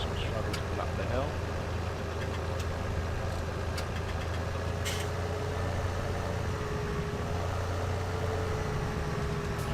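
A tractor engine in a farming video game pulls steadily up a hill in two-wheel drive, a constant mid-pitched diesel drone with a faint knocking texture that holds an even level throughout.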